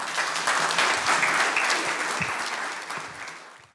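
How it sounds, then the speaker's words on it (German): Warm audience applause welcoming Professor Haller at a lecture event, a dense, sustained clapping from a large crowd that holds steady and then tapers off near the end. "Bitte begrüßen Sie Professor Haller mit einem herzlichen Applaus."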